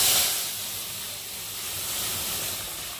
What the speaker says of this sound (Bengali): আর এখন আম ডালটাকে আমি ঢেলে